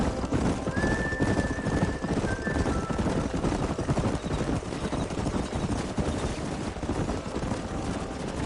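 Horses in the video game Red Dead Redemption whinny and gallop, a loud neigh rising over continuous rumbling hoofbeats and clatter of a herd driven through a canyon.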